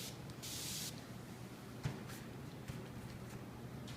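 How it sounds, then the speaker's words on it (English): A single short hiss from an aerosol can of Killer Grunge FX effect spray sprayed onto a surface for airbrush work, heard alone and followed by quiet with a few faint taps. "I'm just going to spray the effect spray all over the entire surface."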